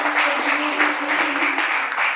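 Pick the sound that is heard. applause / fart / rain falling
applause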